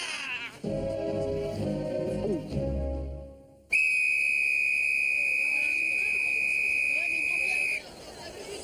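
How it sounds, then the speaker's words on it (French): After a moment of talk, a piercing, sustained high whistle blasts for several seconds at close range, then cuts off. "Vous êtes malade de siffler aussi fort."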